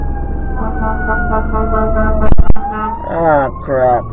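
An ambulance siren on a street in America, loud and close, wailing steadily with rising and falling sweeps and traffic noise, while someone speaks briefly over it.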